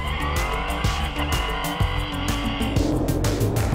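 Renault Sport Trophy race cars start at the Hungaroring in a loud, dense roar of many engines, with revving and tyre noise layered together and the pitch climbing toward the end.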